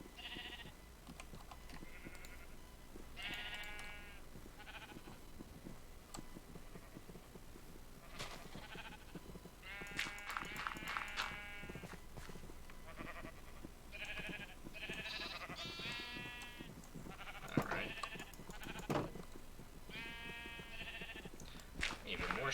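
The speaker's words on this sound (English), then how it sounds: "there's a ton of sheep around here" Blocky farm sheep in Minecraft bleating repeatedly from several directions, short nasal calls at varying distances, fairly quiet, over a low game ambience.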